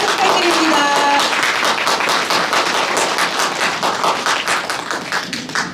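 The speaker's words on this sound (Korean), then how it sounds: "큰 박수 부탁드립니다." A lecture audience breaks into loud, dense applause at a Daegu talk, vigorous clapping close and continuous, tapering slightly toward the end, with brief voice tones at the start.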